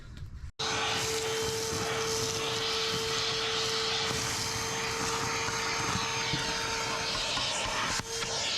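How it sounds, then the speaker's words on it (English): A Dremel rotary tool cuts a groove down a crack in the fuel tank of a vintage Wizard outboard motor, a loud steady whine holding one sustained pitch nearly unbroken for about eight seconds, close up and alone. "I'm just taking my Dremel and just cutting a groove right down the center of the crack"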